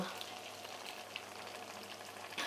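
Milk-soaked saffron gently stirred into a pan of paneer pieces cooking on a low flame for a festive dish: a soft, continuous sizzle with faint scraping and a brief louder clatter at the end.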